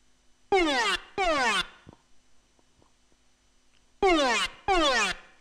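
A dry psy-trance synth lead with no gate, arpeggiator, delay or reverb plays in two pairs of bright, downward-sweeping sustained notes, each about half a second long, loud and close, with silence between the pairs.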